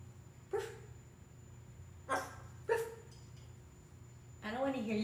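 Three short, sharp dog-like barks spaced a second or two apart, likely a parrot imitating a dog at the Nauti Parrot in Fort Myers, Florida, followed by a longer vocal call, over a low background hum.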